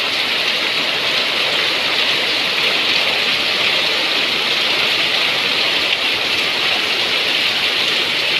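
Heavy monsoon rain falls steadily in Konkan, Sindhudurg, under a red alert, a dense, loud, unbroken hiss of downpour with no pauses.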